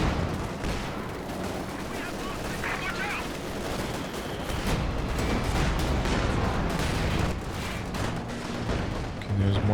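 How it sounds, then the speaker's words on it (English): Rocket and howitzer barrages in a Company of Heroes 2 4v4 battle, a dense, continuous clatter of distant firing and booms with a voice talking over it. "There's a good mix of artillery, you know, Katyushas, the Howies, the British base howitzers."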